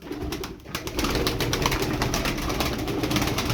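Tumbler pigeons, a young black smoky bird among them, coo steadily outdoors amid a dense, continuous flock sound, with no voices over it.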